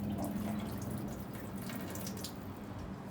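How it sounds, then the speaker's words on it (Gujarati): Water is poured off soaked split moong dal, making a quiet, steady trickle and splash like a running tap, close and continuous with no talking. "એમને જ ખાલી પાણી જ કાઢી લેવાનું."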